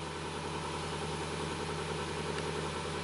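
A Subaru engine with a limp-home fault runs steadily at a close, even idle, a continuous mid-low hum with no cranking bursts or talk.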